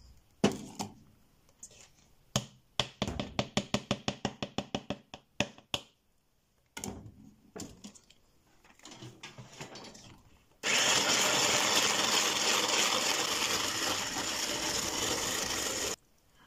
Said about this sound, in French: Je prélève les 250 g de mascarpone et je vais les mélanger